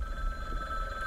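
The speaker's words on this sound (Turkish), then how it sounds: "Telefon Telefon. çalıyor." A telephone rings in the ghost-hunting game Ghost Watchers, a sustained electronic ring tone that holds steady and fairly quiet over a low background rumble.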